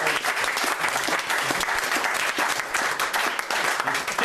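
Audience applause for a close-up magic trick, a dense, steady clatter of many hands clapping together, sustained and fairly loud throughout with no break.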